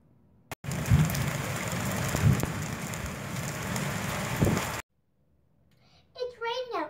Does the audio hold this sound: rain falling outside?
yes